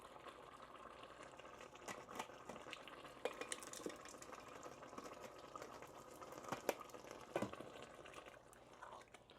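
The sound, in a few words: stirring Prego spaghetti sauce in a pot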